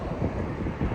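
Strong wind buffets the microphone outdoors, a constant loud low roar with no speech.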